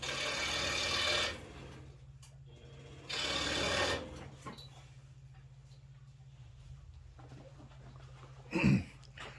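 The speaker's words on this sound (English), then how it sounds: "I'm gonna go over to the saw and I'm gonna cut a little small piece of this, two pieces of this dowel off." A saw cuts two small pieces from a quarter-inch wooden dowel in a workshop: two short rasping bursts of cutting separated by a quiet pause, then a brief knock near the end.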